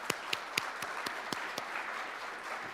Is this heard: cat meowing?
no